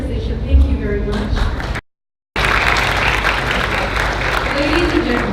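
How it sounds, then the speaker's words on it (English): Applause from the audience at an international academic conference, closing a plenary session: dense, steady clapping with a brief dropout partway through, and voices mixed in. "a round of applause for the amazing, very pleasant plenary session"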